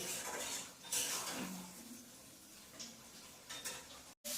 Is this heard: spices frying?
yes